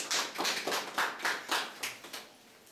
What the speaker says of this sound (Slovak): Konečne je potlesk